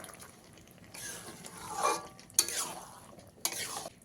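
Cooked dal being stirred into boiled mixed vegetables in a pot, giving soft wet scraping and sloshing swirls with a few sharp utensil knocks against the pot, close and fairly quiet.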